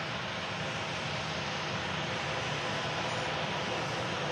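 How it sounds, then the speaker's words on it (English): A Virgin Atlantic Airbus A330-300 takes off at Manchester Airport, its engines making a steady, dense roar that holds at the same loud level throughout with no break. "That's Virgin Atlantic 575, the A330-300, and its way to Orlando"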